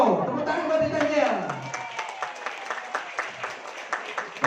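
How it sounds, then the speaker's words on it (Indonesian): Audience applause at a Titan Gel marketing presentation, a steady wash of many hands clapping that starts loud and thins into scattered claps, with a presenter's voice sounding over it at the start. "tepuk tangan buat Titan Gel"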